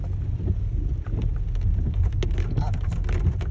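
Rain patters on the roof of a car on a drive up a trail during a rainstorm, a steady dense drumming over low engine and road rumble, with wipers running and occasional sharper drops throughout.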